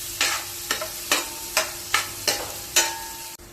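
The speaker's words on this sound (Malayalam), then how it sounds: "സവാള ചേർത്ത് നന്നായിട്ടൊന്ന് വഴറ്റി വരണം" Chopped onions sautéed for a chickpea curry, stirred in a pan with about seven crisp, evenly spaced spatula scrapes over a soft sizzle, close and fairly loud, with no voices.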